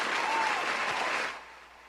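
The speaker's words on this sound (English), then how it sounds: "round of applause" Audience applause closing out a podcast episode: a steady wash of clapping that holds loud and even, then thins and fades toward the end.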